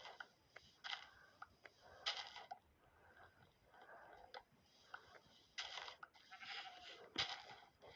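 Several short, bright bleats from a game sheep pop up at irregular intervals over a faint, busy background, loud bursts separated by quieter gaps.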